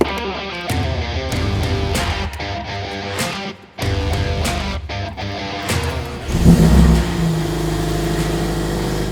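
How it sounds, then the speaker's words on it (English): After an engine control unit refit, a car engine cold starts and settles into a steady warm-up idle, with clicking, a crank and a louder catch near the end, all heard up close. "It is connected, the car is cold starting. It is warming up"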